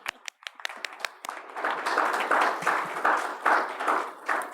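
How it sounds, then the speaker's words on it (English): Audience at a Cabrillo Unified School District meeting clapping in thanks: a few sharp, separate claps at first, then fuller applause builds and swells in waves, moderately close, with no talk over it. "Yes, we can clap."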